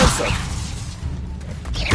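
Levioso levitation spell cast in Hogwarts Legacy: a swishing whoosh with a muffled thud opens, a quieter lull follows, then another rushing swish and impact close at the end.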